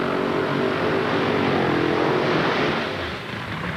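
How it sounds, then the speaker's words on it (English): Drag racing car doing a burnout down the racetrack at an NHRA event, a steady dense roar of engine and tire noise heard from a distance, fading slightly near the end. "That gives you an idea how far Dean Scusa goes down the racetrack on his burnout"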